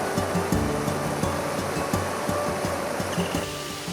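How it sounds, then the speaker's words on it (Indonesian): Strong river current formed where two waterfall streams meet, rushing in a steady broadband roar that stays loud and close with no break. "Arusnya cukup deras karena hasil pertemuan dari 2 aliran air terjun."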